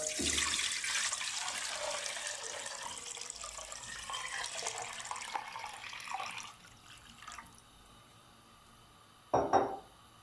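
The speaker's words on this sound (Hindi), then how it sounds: "इसमें मैं पानी डाल दूँगा।" Water pours steadily into a pot for sugar syrup for several seconds, then stops, followed by a short metallic clatter near the end.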